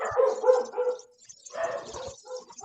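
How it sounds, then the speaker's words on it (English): Dog barking in a couple of loud bursts, close by, with a gap of quiet between them and no talking over it. "Oh, it's Karen's dog."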